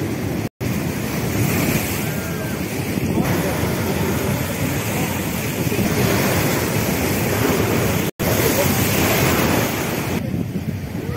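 Large sea waves crash onto the Digha beach promenade during a strong high-tide surge. A continuous heavy roar of surf is buffeted by wind on the microphone, with two brief cutouts in the sound.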